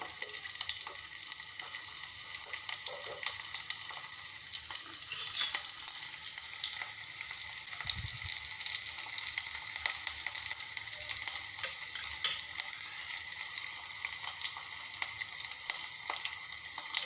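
Finely chopped onion and garlic slices frying in very hot oil, a dense, even hiss that holds steady throughout and sounds close, with one soft low bump midway and no voices.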